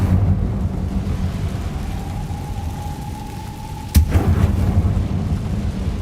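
An Incendio fire spell cast in the video game Hogwarts Legacy bursts out as a sudden loud whoosh and crack in the middle, followed by a rumbling, crackling blaze over a low, dark ambient drone.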